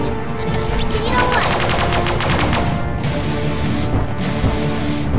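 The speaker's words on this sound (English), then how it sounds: "let's give the nearest target a volley with the pulse gun" A pulse gun fires a rapid volley of bright, crackling shots in the space combat game Sunrider, a dense burst of repeated blasts that cuts off, followed by fainter impact noises.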